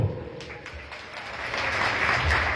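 Theatre audience clapping through a Khorda stage play in Odisha, a steady broadband patter of many hands that swells slightly toward the end, continuous and fairly loud.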